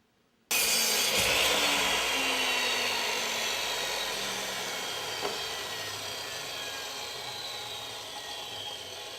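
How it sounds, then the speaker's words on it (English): A loud, steady radial arm saw whine with a broad hiss of cutting wood, sustained for several seconds and slowly easing off, close by with no voices. "I just got done cutting something on a radial arm saw"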